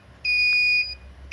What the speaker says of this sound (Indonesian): Jika buzzer semakin cepat berbunyi